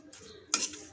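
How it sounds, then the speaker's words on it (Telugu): A spoon stirs tamarind chutney into a hot tempering in a pan, giving one short scraping clatter against the metal in an otherwise quiet moment. "పోపు అంతా కలిసేటట్టు కలపెట్టేసుకుని తిప్పేయడమే"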